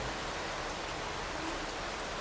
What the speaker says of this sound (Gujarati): વરસાદ ફરી પાછો વધ્યો છે જો